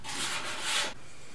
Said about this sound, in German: Und Schleifen wird halt oft gern mit der Hand gemacht, so wie mit hier so einem Handschleifplatz.